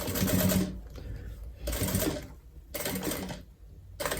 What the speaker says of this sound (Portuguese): Vou costurando, ó. Até chegar aqui no finalzinho.